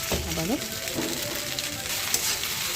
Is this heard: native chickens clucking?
no